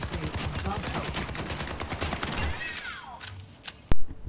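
Video-game gunfire in Overwatch 2 aimed at training bots, a steady stream of rapid shots mixed with game effects and a sweeping tone, ending with one sharp loud impact.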